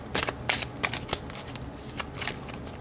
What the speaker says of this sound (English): I'm having a hard time shuffling these bigger decks